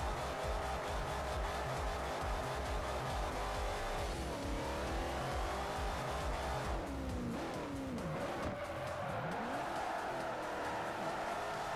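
A Plymouth Hemi Cuda drifting in Forza 4: a continuous engine roar with rising and falling revs, overlaid with long squealing tire skids through the corners, close and sustained for the whole stretch.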